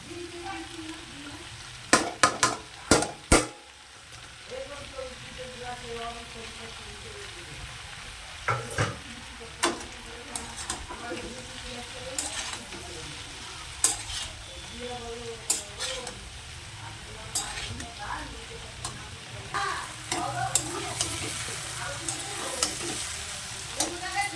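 Fried potatoes tipped into a pan of cauliflower keep up a soft continuous sizzle, while a spatula scrapes and taps against the metal pan at irregular moments. The scrapes are loudest near the start.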